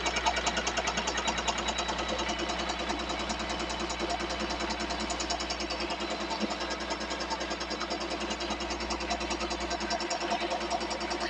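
Tajima commercial embroidery machine stitching a design on a robe, a steady rapid mechanical chatter of needle strokes running continuously at moderate volume.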